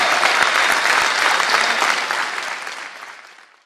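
Loud applause from a crowd, dense steady clapping that slowly fades away over a few seconds with no voices over it.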